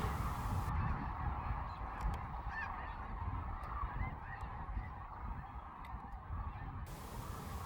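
A dense chorus of sandhill cranes calling during migration near Kearney, Nebraska, a continuous overlapping mass of rattling, honking calls from a large flock, steady and moderately distant, with no talking.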